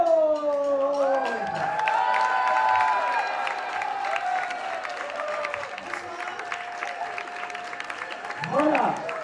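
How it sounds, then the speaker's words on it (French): A crowd at the Romont carnival applauds and cheers for Princess Laure, a steady wash of clapping under loud whooping and howling voices that swoop and sustain, the noise swelling again at the very end. "Mesdames et messieurs, applaudissez Princesse"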